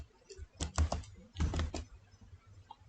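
Typing on a computer keyboard in Windows 11: two short bursts of quick keystrokes, close and fairly soft, separated by brief pauses.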